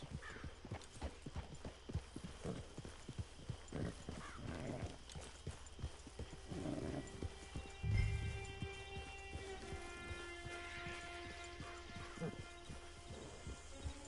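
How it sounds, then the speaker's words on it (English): Horse hooves clip-clop at a steady, rhythmic pace in the Red Dead Redemption 2 Online video game, with a neigh partway through and game dialogue spoken over the hoofbeats. "Get your horse."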